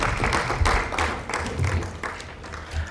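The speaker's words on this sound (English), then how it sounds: "If you could please just give her another round of applause." Applause from an audience at a high-level food and nutrition security panel event, a steady wash of clapping that holds at moderate level for about three seconds with no speech over it.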